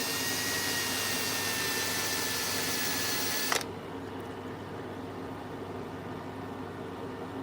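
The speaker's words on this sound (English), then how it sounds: "we're going to use the countersink, and I'm just going to countersink the end of that." A countersink tool cuts the end of a pipe in a pipe maker's workshop, giving a loud, steady whirring whine that stops abruptly partway through and leaves a faint room hum.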